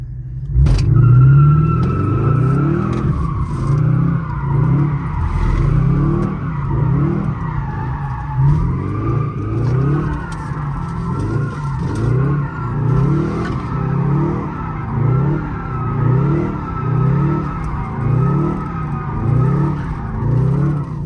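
A Pontiac G8 GT's engine revs loudly in a steady, cycling rhythm as tires squeal and skid continuously, close by, spinning donuts with traction control off and manual transmission.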